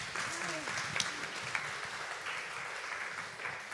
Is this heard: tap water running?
no